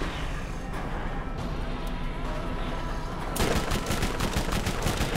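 Video game gunfire in Borderlands, a dense loud stream of rapid shots that grows sharper and more intense in the second half, heard alone without talk.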